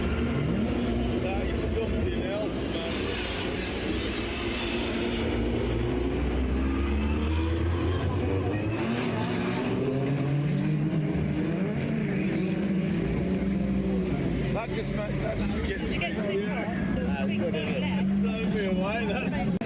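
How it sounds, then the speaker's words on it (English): A line of GB4 open-wheel race cars drives out onto the Melbourne loop at Donington during a British GT event, engines droning and rising in pitch at close range. Voices can be heard amid the engine noise. "Seeing and hearing that line of GB4 open-wheelers drive out onto their Melbourne loop from a few feet away is immense."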